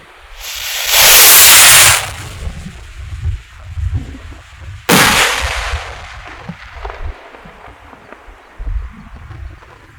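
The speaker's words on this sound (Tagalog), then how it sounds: "Okay, test fire tayo. Kwiton puno." A giant kwiton firecracker is test fired: a loud broadband hissing burst lasting about a second, then a sharp bang-like crack near the middle, followed by lower rumbling with scattered small pops.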